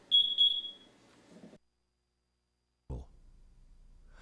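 The audio alarm on an MSA FireHawk M7 SCBA gives a short loud high-pitched electronic tone near the start, followed by low handling clunks, then silence and a thump.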